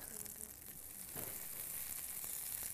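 Three tablespoons of butter melt in a hot pan over medium-low heat for a pork sauce, giving a steady, close sizzle and crackle with a brief soft stir partway through.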